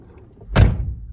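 The door of an R32 Nissan Skyline shuts with a single solid, close thunk, with a low rumble trailing off after the latch and no talking.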